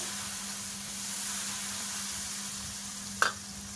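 Water is sprinkled onto a hot, oil-brushed flat griddle, producing a steady close hiss of sizzling with a low hum beneath and a sharp brief knock near the end.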